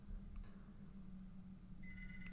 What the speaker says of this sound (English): They exchange a long, nervous glance as the phone still rings.